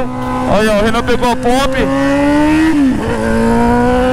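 A carbureted Honda Hornet motorcycle, taken out for an off-road trail ride, revs loudly and close, its pitch swinging up and down in several bursts before settling into a steady drone, while someone speaks over it.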